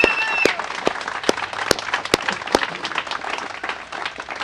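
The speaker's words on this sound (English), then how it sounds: "So how about a big round of applause for the guys and girls that work at our cable car company." Outdoor crowd applause at the unveiling of a new San Francisco cable car, honoring the cable car company's workers: steady clapping from a large audience throughout, with a few sharp nearby claps standing out and brief voices mixed in.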